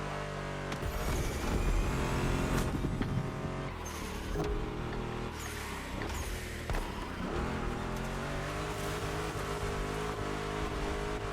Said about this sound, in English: losing control of this car here. You could just hear the wheel spin.